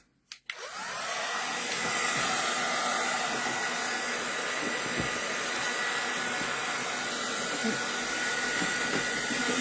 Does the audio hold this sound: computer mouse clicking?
no